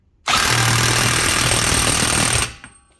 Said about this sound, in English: Got my impact gun with my 32 millimeter